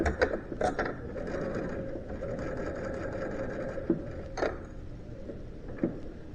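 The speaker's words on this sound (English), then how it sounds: "every time you sew, everything's going under the needle completely straight towards the presser foot." A sewing machine runs steadily at an even speed, its needle mechanism whirring in a continuous close-up drone, with a few small clicks and knocks from handling the fabric along the way.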